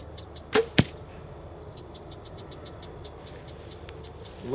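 Two sharp releases of field point arrows from a bow at 20 yards snap out in quick succession, heard against a steady background of chirping crickets outdoors.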